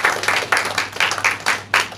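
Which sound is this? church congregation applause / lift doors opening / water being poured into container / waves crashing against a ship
church congregation applause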